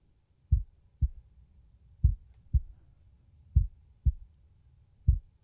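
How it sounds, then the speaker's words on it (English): Steady AI-generated heartbeat sound effect: low, thumping lub-dub pairs repeating evenly about once a second, clean and isolated with no other sounds. "That's an AI heartbeat."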